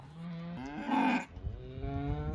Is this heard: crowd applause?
no